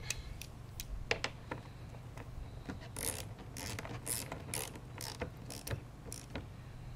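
A socket wrench with a 1/2 inch socket ratchets a nut or bolt snug during an AeroBox roof cargo box install, giving a series of sharp, close clicking bursts in an irregular rhythm with no talk.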